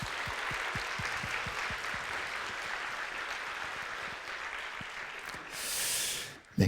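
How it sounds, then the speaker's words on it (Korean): A church congregation's younger members applaud their elders at a year-end worship gathering, a steady wash of many hands clapping for several seconds, fading near the end. "여기 우리 젊은 세대들이 우리 장년 분들을 향해서 박수를 했으면 좋겠습니다."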